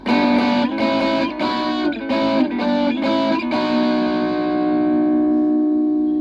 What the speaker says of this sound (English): So the distortion also crunch. You can hear the crunch